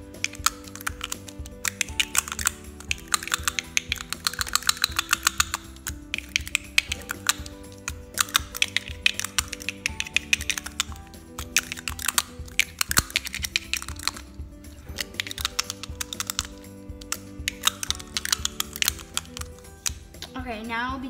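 A lipstick tube is handled for ASMR, giving rapid, close clicking and tapping in dense bursts that run almost without pause throughout.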